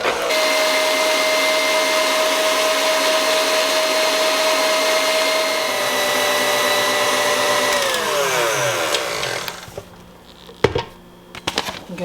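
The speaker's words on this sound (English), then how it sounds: "I'm gonna get that blended up before I put in the egg white protein powder" A blender whirs steadily as it mixes cream of tartar, allulose and salt, a loud close motor whine that winds down near the end and gives way to a few clatters.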